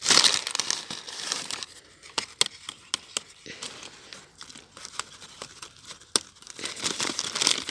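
Paper crinkles and tears while fruit is picked and wrapped for ripening, a run of dry crackling rustles with sharp crisp snaps, close up and fairly quiet, with a voice speaking now and then.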